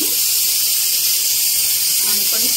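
Mustard seeds and cumin crackle in hot oil, a dense, steady hiss and sizzle filling the whole stretch, with faint low murmurs of a voice underneath.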